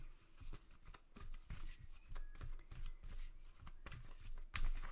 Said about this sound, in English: I'm going to shuffle on screen so you can see.